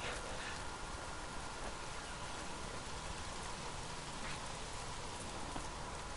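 Steady rain in the video game Days Gone, a dense, even hiss of falling drops on surfaces that continues without a break at a constant level.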